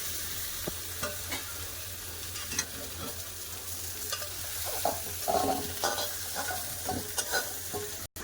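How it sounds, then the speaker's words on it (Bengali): Black cumin seeds tempering in mustard oil sizzle and crackle for several seconds, with irregular pops and stirring scrapes, fairly quiet and close. "তরকারি বসাবো কড়া দিয়ে দেবো সরষা তেল কম করে দেবো ফোড়নে দিয়ে দেবো কালো জিরে"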